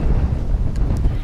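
A very strong wind blows by the sea near a seaside house, buffeting the microphone with a loud, continuous low roar and gusty rumble, with no one speaking.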